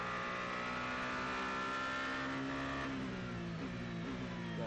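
WEC race car engine at Bahrain heard from onboard during a full course yellow, a loud continuous drone with a brief wavering hesitation in pitch toward the end, alone without voices.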